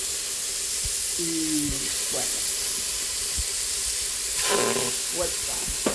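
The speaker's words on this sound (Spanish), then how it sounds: "aquí ponemos la paila de esta con un chin de aceite, dejamos que se sofría el pollo" Chicken sizzles in a little oil in a pan, a loud constant hiss and crackle with occasional clinks of utensils, while a voice speaks briefly over it.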